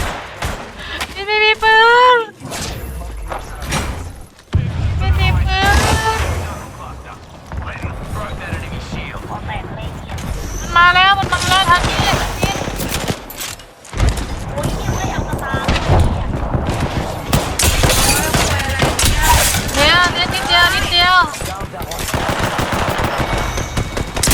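Rapid bursts of gunfire in the Apex Legends battle royale game, loud repeated automatic and shotgun shots in clusters, with excited players talking over the action.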